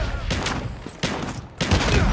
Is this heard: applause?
no